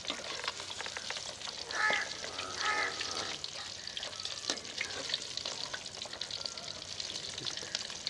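Fish pieces for fish karahi frying in hot oil in a kadai: a steady, close, crackling sizzle throughout, with a couple of brief louder bursts early on and no talking.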